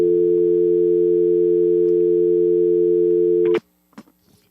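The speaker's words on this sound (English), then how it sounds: "When was the last time anybody heard a dial tone?" A steady telephone dial tone sounds loud and continuous for about three and a half seconds, then cuts off abruptly, followed by a few faint clicks and handling noises.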